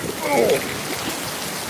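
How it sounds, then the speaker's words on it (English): Monsoon rainstorm in Scottsdale, Arizona, with high winds: a steady wash of rain noise throughout, and a short voiced exclamation near the start. "This is a monsoon rainstorm for those of you who've never seen one"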